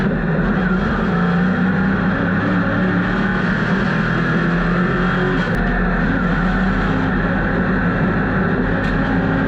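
Stock cars race at Hickory Motor Speedway in a loud, steady engine roar that holds throughout, close and continuous with no speech over it.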